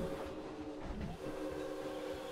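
A steampunk-styled steel roller coaster train in the video game Planet Coaster clatters past, a mechanical rattling rumble with a steady tonal hum, faint and continuous, with no voices.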